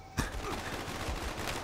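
A quick barrage of gunfire in a gun-game round of a shooter video game, starting abruptly and sustained as fast, overlapping shots through the short moment.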